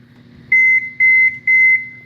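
A kitchen timer beeps three times as it is set for sixty minutes, each tone loud, close and clear, evenly spaced and sustained for about a quarter second, over a faint low hum.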